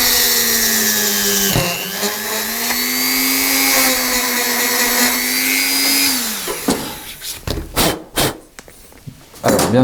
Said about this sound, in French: Là, je vais percer le deuxième trou.